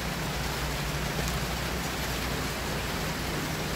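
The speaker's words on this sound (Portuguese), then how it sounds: "Tá chovendo." Rain falls steadily during replanting of seedlings outdoors, an even, dense hiss that stays constant and moderately loud throughout, with no voices.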